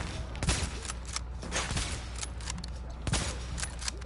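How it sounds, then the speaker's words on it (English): Gunfire in the video game Tom Clancy's The Division comes as repeated sharp bursts and single cracks scattered over a few seconds at moderate level, with a steady low background hum. "Good headshot on the boss."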